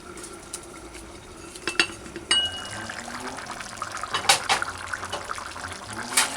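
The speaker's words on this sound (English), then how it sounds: "So it's at that 38 minutes you add the canned beans." Drained canned butter beans tumble into a stew pot of pig's trotters with scattered wet clatters, spoon scrapes and metallic knocks, fairly quiet with irregular bursts and no talking.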